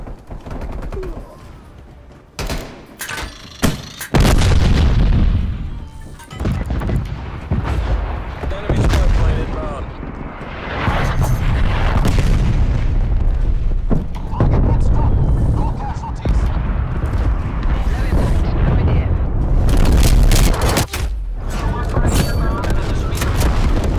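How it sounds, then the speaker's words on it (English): Artillery strikes pound a battlefield in the video game Call of Duty Black Ops Cold War, loud heavy booms and rumbling blasts layered with gunfire, continuous and dense, with in-game voices calling out over the chaos. "Artillery standing by."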